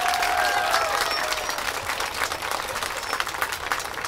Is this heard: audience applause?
yes